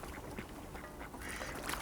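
Decoy ducks quack at a waterfowl hunting hide, repeated nasal calls close by over a steady wash of background noise, no talking.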